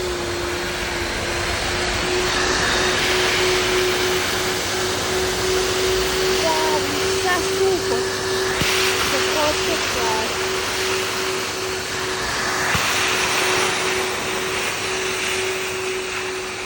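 A professional wet and dry vacuum cleaner with three turbines, 4.5 kW and an 80-litre tank, runs at a loud, steady whine and roar with slight shifts in airflow as it sucks up dirt, close by.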